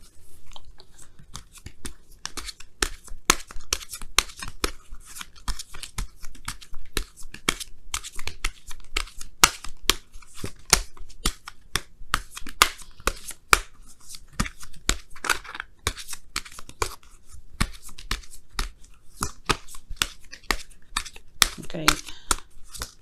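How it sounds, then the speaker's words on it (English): Tarot cards being shuffled by hand in a reading, a dense run of crisp flicks, riffles and papery snaps running steadily throughout, close and fairly loud. "I'm going to give you guys a quick shuffle here and see what else is going on."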